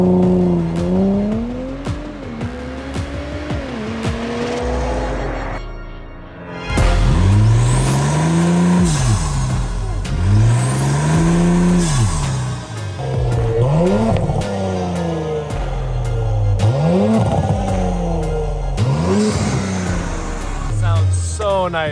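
A tuned Audi S4 B9 with an X-pipe exhaust revs hard in repeated loud sweeping pulls, with turbo flutter between bursts and people talking over it.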